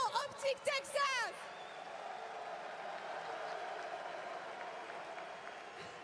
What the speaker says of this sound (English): un tonnerre d'applaudissements pour vos champions